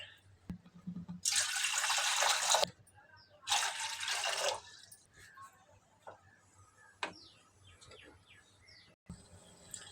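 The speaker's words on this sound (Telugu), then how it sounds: "ఇప్పుడు దీంట్లో వాటర్ పోస్తున్నాం" Water pours into a cooking pot on a stove in two separate bursts, each a bright splashing rush lasting about a second, followed by quieter clinks and faint drips.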